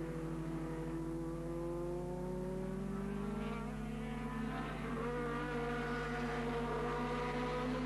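A BMW race car in the Supersalon class at Ahvenisto circuit, 1984, its engine droning steadily with rising and shifting harmonic tones as it runs, loud and continuous with no voices.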